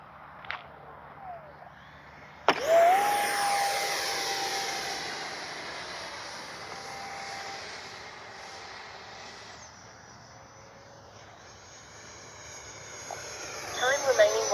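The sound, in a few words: Arrows Avanti S 50mm RC park jet flying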